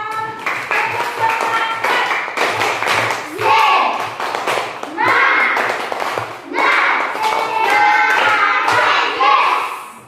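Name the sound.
class clapping hands together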